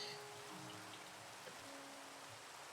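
Steady rainfall in the Minecraft video game, a soft continuous hiss of falling drops with a faint low hum beneath, quiet and even throughout with no talking.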